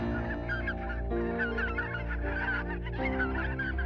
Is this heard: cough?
no